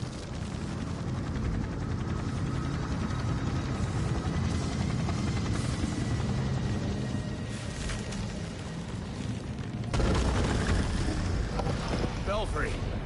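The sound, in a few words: helicopter in Gotham Knights video game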